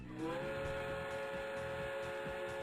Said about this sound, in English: can the train fucking shut up, please?